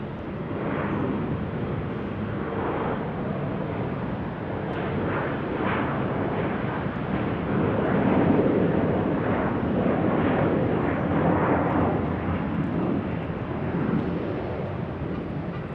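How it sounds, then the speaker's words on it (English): A United Embraer E-175 airliner departs Salt Lake City airport, its jet engines producing a broad, sustained roar that swells slightly midway and stays distant and steady, with no talk. "United E-175 about to depart."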